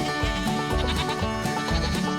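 Goats bleat over and over inside a farm goat barn holding many does and young kids, a loud, close chorus of overlapping, wavering cries with no talking.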